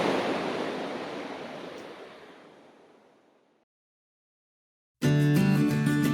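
Pacific Coast surf washes in with a loud broad roar that slowly fades away to silence. Another unrelated sound cuts in abruptly near the end.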